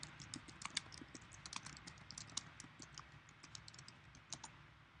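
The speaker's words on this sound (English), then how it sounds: "So I'm going to type in my address." Rapid keystrokes on a computer keyboard as a street address is entered, a steady run of light, close clicks with uneven rhythm and no talking.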